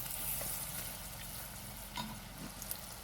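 Jackfruit snack pieces are scooped from hot frying oil, a steady crackling sizzle throughout with soft scraping and stirring clinks, close and fairly quiet.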